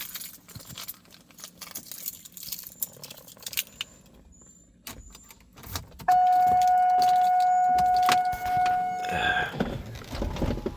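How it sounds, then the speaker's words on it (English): Keys jangle in the foreground of a Corvette, then a steady electric power-window motor whines for several seconds as the window lowers, ending with a soft thunk. "I guess I'll let the window down. I got the keys."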